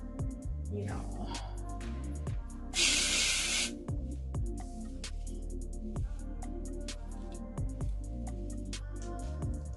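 A short spray bottle burst lands on passion twist hair, a bright hissing mist lasting about a second, heard over a steady background beat with faint talk around it.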